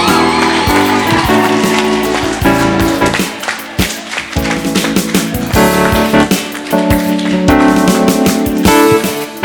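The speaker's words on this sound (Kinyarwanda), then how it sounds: "Dukomere Imana amashyi menshi." Applause in a church service rises and falls steadily with a crowd clapping loudly over music and voices, bursts of cheering and shouts mixed throughout.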